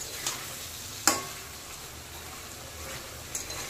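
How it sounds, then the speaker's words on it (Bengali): A vegetable curry gets stirred in a pan over a steady low sizzle, with a few soft scrapes and taps of the spoon standing out. "এবার একটু নেড়ে দেব"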